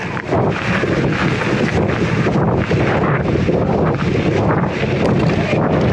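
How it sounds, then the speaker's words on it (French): Strong wind buffets the microphone in a loud, steady roar with low rumbling gusts throughout, during an electric mountain bike ride. "Il y a du vent."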